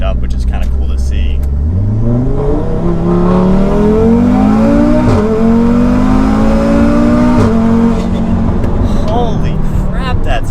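An 800 HP Audi RS3 with a built big-turbo motor and DSG gearbox pulls hard down a straightaway, its engine note climbing steadily with a couple of quick upshifts, loud and continuous from inside the car.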